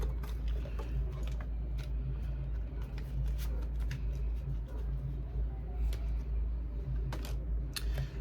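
Tarot cards are shuffled before clarifier cards are drawn, with a run of crisp, irregular flicks and taps against a low, steady background hum.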